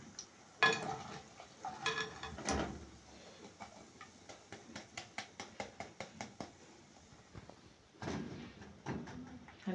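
Crunchy breaded cutlets (panee) being lifted out of frying oil, with rustling, scraping and a run of sharp rhythmic crackly taps, close and fairly quiet, with no speech.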